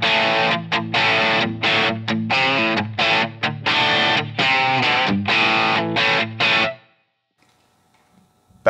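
Electric guitar through a Line 6 Helix WhoWatt 100 amp model modeled on a Hiwatt DR-103 Brill, split crossover set to 1.5, playing a loud, driven rhythmic chord pattern with short choppy gaps for about seven seconds, then silence.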